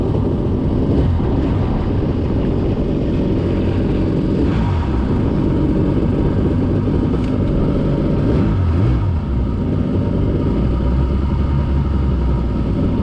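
A refurbished Jet Mate boat's engine idles on the water, a steady close low rumble with a constant throb running unbroken from start to end, no talk over it.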